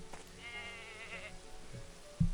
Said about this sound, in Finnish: That goat is a menace.